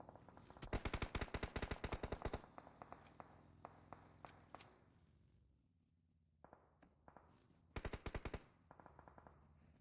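Rapid automatic gunfire bursts and scattered single shots in a battle royale video game match, loud dense volleys at the start and again near the end, with sparse distant pops and quieter gaps between.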